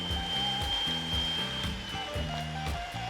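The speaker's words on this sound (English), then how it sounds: "start creaming the butter" An electric mixer creaming butter and sugar for a lemon cake gives a steady whirring motor hum with a shifting pitch and rhythmic bumps as the beaters work the bowl, close and continuous.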